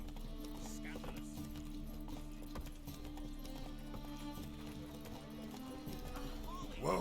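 Hooves of Roach, a horse in The Witcher 3, clop in a steady rhythm at a walk over continuous background music, with no voices.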